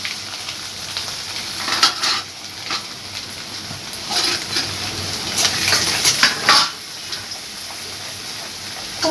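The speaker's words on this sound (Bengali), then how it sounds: "এবার এই যে অল্প নারকেল সেটাও একটু তেলে নেড়ে নেব" Grated coconut and whole cumin stirred and fried in oil for an elephant-foot yam and fish-head dish, a steady close sizzle with recurring scraping stirs throughout.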